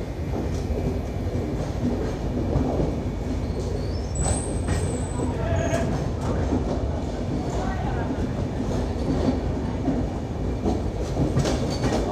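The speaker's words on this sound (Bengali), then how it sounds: "সেই টানেল দিয়ে এখন আমাদের ট্রেন কলকাতার দিকে এগিয়ে যাচ্ছে।" An Indian passenger train runs through a dark mountain tunnel bound for Kolkata, giving a steady, loud rumble of wheels and carriage noise with faint rail clatter and a brief high squeal partway through.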